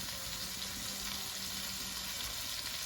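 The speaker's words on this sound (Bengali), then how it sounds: "এগুলো ভেজে নেব" Chopped green chillies, salt and turmeric sizzling in hot oil in a pan while making semolina upma, a faint, even hiss of frying with no voices.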